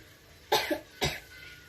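A child gives two short, sharp coughs about half a second apart, close by against a quiet background.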